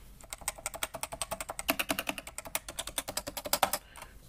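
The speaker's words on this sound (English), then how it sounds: "the Cooler Master Nova Touch TKL keyboard" Fingers type quickly on a Cooler Master NovaTouch TKL keyboard with Topre switches, giving a dense, even run of soft, muted thocks, close and clear with no talk.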